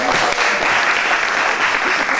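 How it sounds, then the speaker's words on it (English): A live storytelling audience on a cold night gives a steady, full round of applause, dense clapping filling the room for about two seconds without speech. "How about a nice round of applause just for yourselves for getting out in this nice cold night?"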